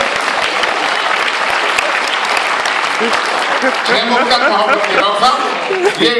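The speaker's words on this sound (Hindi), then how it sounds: "तो एक बार जोरदार तालियां बजा दीजिए।" Loud, dense applause from the audience at a Hindi poetry gathering held at ABV-IIITM, continuous clapping at first, then a voice starting to speak over the tapering claps.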